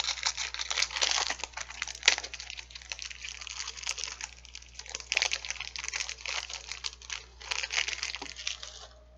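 A Magic: The Gathering Modern Horizons booster pack being torn open and handled up close, a quiet run of crinkling foil wrapper and rustling cards in irregular bursts with no voices.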